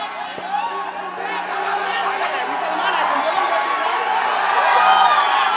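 A crowd at an Anant Puja stage music show shouts Jai Shri Ram, a loud, dense mass of voices with cheering that swells gradually throughout.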